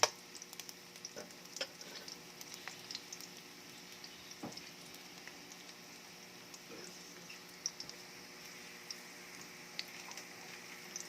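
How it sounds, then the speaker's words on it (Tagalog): Garlic browning in a pan for beef broccoli, a faint, steady sizzle with scattered small ticks and pops, close and without talk. "Ngayon natin brown yung bawang."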